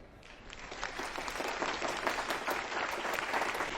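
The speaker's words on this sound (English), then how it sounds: "They are clapping for the orchestra." Applause from a concert hall audience after an orchestra's performance, a dense, steady wash of many hands clapping that fills the space and continues evenly throughout.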